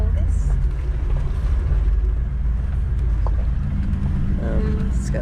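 A Land Cruiser grinds across a rough headland off-road, its low engine rumble and jostling of the cabin continuous beneath wind buffeting, with people talking inside over the drive.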